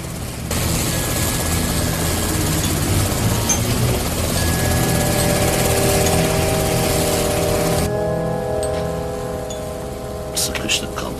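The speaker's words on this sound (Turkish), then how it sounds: "Abi, helikopter yanımızda." A civilian helicopter flies close by, its loud, steady rotor thump and turbine whine continuing throughout, then cutting partly away near the end, with voices talking underneath.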